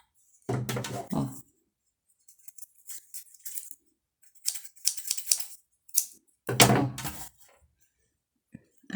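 Scissors cut through EVA foam in a few short, close, crisp snips spread over several seconds, separated by quiet pauses.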